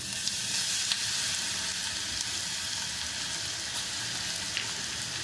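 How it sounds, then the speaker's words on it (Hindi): Cumin seeds crackle and sizzle in hot oil in a pan, a steady close frying hiss with faint scattered pops and no talking. "तेल गर्म हो चुका है, तो अब मैं इसमें डालूंगी 1/2 चम्मच जीरा। जीरा बढ़िया क्रैकल हो रहा है"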